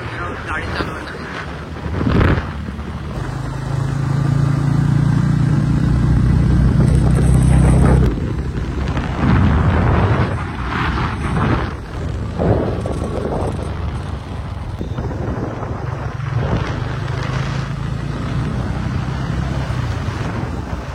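A car driven along a winding ghat road, its engine rumble and road noise steady throughout, with heavy wind buffeting the microphone and occasional voices in the background.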